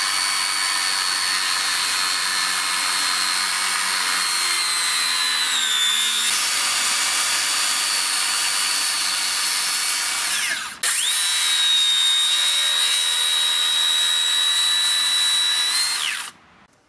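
Makita 40V HS005G 125mm cordless circular saw cutting through framing timber: a steady, loud high-pitched whine held for two long passes, with a short break between them, winding down at the end.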